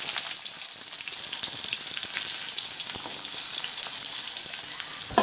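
Chopped onion sizzles and fries steadily in hot oil with fennel, cardamom, clove and spices for a road-style empty salna, a dense continuous crackle close by with occasional sharper pops and no talking.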